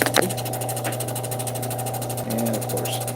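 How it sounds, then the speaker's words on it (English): The final wheel of a cabbing machine grinds an onyx stone from an unfinished estate piece, a steady close motor hum with a buzzing whine that continues without a break and shifts slightly in pitch near the end. "we are headed to the final stage, or final wheel on the capping machine"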